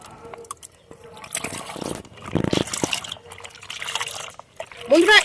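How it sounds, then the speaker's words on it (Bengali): Black mustard cake paste goes into three to four litres of water with soft sloshing and trickling and a few splashes, while someone talks over it. "এই তিন থেকে চার লিটার জলের মধ্যে এই পেস্টটা আমি দিয়ে দেবো"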